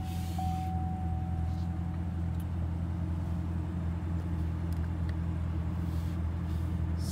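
A Cadillac car idling steadily after being started with the key fob and push-button start, a low continuous engine hum with a faint tonal whine near the start and a few soft clicks.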